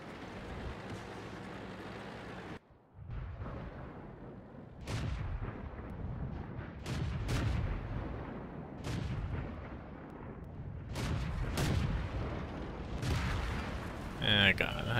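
Repeated booming shots from a 105 leFH18B2 self-propelled artillery gun in the game World of Tanks, a series of sharp reports spread through the clip over a dense battle din with talk underneath.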